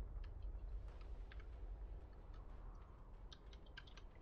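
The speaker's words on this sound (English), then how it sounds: "I'm typing it in all chat now" Soft, quick keyboard typing during a Dota match, a scattered run of light clicks sitting faintly over a steady background hum.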